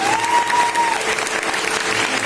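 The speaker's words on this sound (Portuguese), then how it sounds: "Vamos aplaudir essa palavra, amados." Church congregation applauding after a scripture reading, loud continuous clapping from a large crowd throughout, with a brief whistle-like tone near the start.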